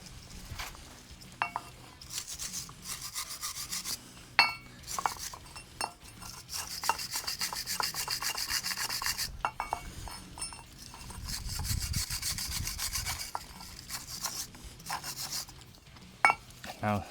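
Scrubbing a Dacia Duster brake disc clean with a brush, with steady rasping and rubbing strokes that come in bursts with brief pauses, loud and close.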